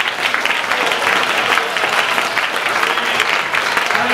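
A congregation at a Thursday worship gathering breaks into loud, continuous applause, a thick, even roar of many hands clapping together with no break.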